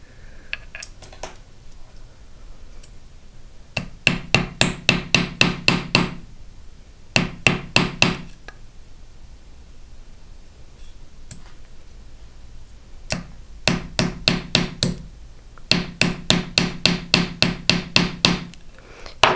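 A hammer sets rivets on a textured metal disc bracelet in quick bursts of sharp, ringing metallic taps, several rapid strikes per burst with short pauses between, close and alone.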